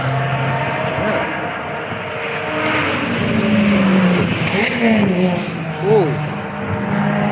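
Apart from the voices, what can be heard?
Lotus Exige cars driving out onto Cadwell Park track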